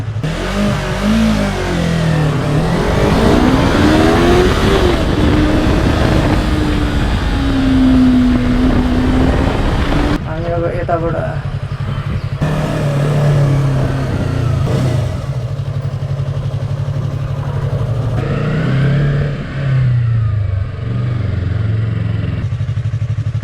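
Yamaha R3 motorcycle accelerating hard through the gears on a 0 to 60 run, engine note rising and falling with each shift, loud and close, with a brief spoken phrase near the end.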